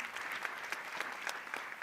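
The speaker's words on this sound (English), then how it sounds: "A big applause." A crowd clapping steadily and fairly loudly, a dense continuous patter of applause with no voices over it.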